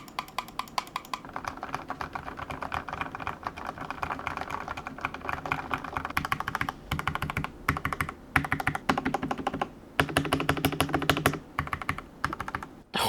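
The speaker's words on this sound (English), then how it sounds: "here's what the keyboard sounds like completely out of the box." Rapid, continuous clacking of mechanical keyboard keys being typed on, close and crisp, with brief pauses between bursts and no voices.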